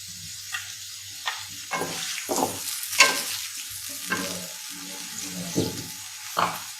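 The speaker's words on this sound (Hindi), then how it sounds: "अब हम इसमें ये कटे हुए प्याज डाल देंगे।" A spoon clacks and scrapes several times against a pan of chopped onions frying quietly, heard close with brief gaps between strokes.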